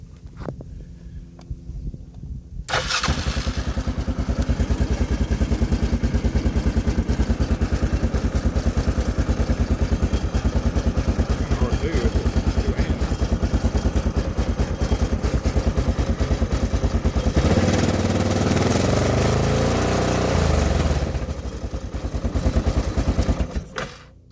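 An engine idles steadily and loudly for over twenty seconds, a constant close rumble with rattling texture, with a brief quieter start before it settles in.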